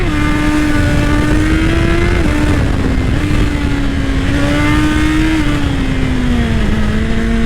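A Suzuki GSX-R 1000 sport bike with aftermarket exhausts fitted with baffles drones loudly and close up at steady speed, its engine pitch rising and dropping slightly with throttle and gear changes.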